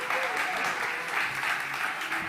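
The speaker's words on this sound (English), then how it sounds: "Come on, big applause for Damien." Steady applause from a conference audience on a summit stage, greeting a panelist as he is introduced; dense and continuous throughout with no clear voices.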